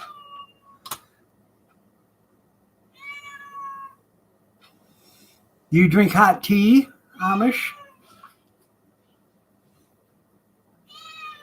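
A cat meows loudly several times up close, drawn-out plaintive cries, with a person speaking briefly in between.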